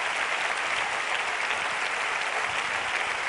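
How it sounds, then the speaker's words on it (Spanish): Sustained crowd applause at a Spanish Socialist political rally, a dense, steady roar of clapping hands filling the whole stretch at even loudness with no talk over it. "Daros un aplauso."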